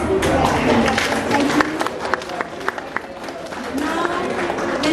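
An audience at an art exhibition opening in a Kuala Lumpur gallery claps for the women present. Scattered, crisp claps come from nearby within a broader patter of applause, and a voice speaks briefly over it.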